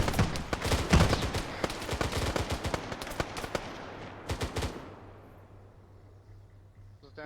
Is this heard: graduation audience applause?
no